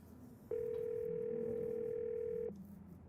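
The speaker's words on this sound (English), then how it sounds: "You pull out your phone and call." A steady telephone dial tone rings out in the horror game Scarlet Hollow as a phone call is placed, holding one unbroken pitch for about two seconds before cutting off abruptly, with quiet ambience before and after.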